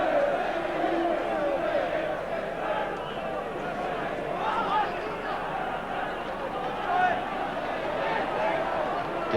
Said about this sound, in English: The crowd are willing them on